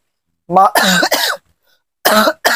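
A few harsh, close coughs in quick succession, a short pause, then two more coughs.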